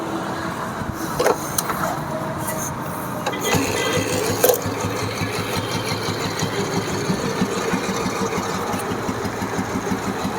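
An old 1999 Royal Enfield Bullet motorcycle engine idles steadily with a rough, ticking rhythm, close and continuous, with a few clanks near the start.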